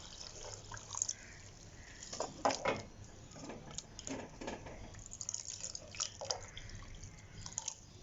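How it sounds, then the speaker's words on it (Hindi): Water trickles and splashes into a pot of cooking keema in uneven bursts, with light clinks of a utensil against metal. "अब हम इसमें थोड़ा सा पानी ऐड करेंगे"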